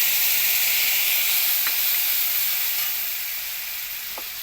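Bay leaves and dried red chillies sizzle in hot oil left from frying rohu fish, a close, loud, continuous hiss that eases off slightly toward the end, with no voices.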